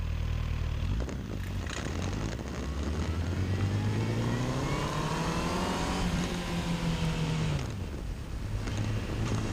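A motorcycle pulls away in first gear on a straight line, its engine note climbing steadily for several seconds before easing off as the throttle drops, heard close and continuous with faint background noise.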